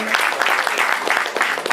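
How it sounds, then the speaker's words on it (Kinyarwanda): Short burst of audience applause for a father at a poetry awards event, crowd clapping loud and close for under two seconds. "Murakoze cyane ubisana amashyi menshi ku papa."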